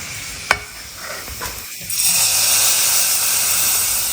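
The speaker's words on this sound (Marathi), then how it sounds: "आता आपल्याला तडका द्यायचा आहे" Hot ghee with garlic for a tadka hits the pan with a sharp click, then bursts into a loud, steady sizzle that keeps going close to the microphone.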